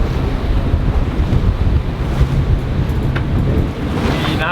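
Strong wind buffets the microphone while sailing through a Norwegian fjord, a steady loud roar with gusts and water rushing past the hull, continuous throughout with no voices.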